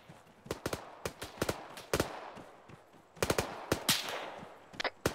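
Soldiers' rifle and machine-gun fire in ArmA 3 crackles in sharp bursts and single shots, some clustered in rapid strings with short pauses between, loud and close, no voices.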